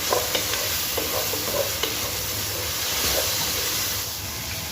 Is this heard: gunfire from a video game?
no